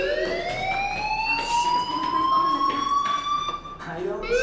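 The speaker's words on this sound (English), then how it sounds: "Hey, do you hear that fire alarm?" Fire alarm ringing inside a school in the Life Is Strange video game, a loud continuous wailing tone sweeping slowly upward with steady harmonics, heard alone with no talk.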